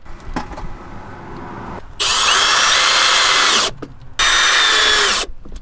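Screws are driven into drawers in a DIY camper van build, two loud sustained bursts of a cordless drill running nearly two seconds each, separated by a short pause, with a few faint taps and knocks before them.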